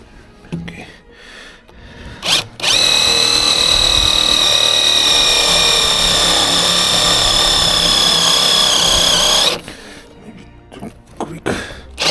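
A power drill whines steadily and loudly for about seven seconds while drilling into a timber frame, with brief knocks and handling noise before and after.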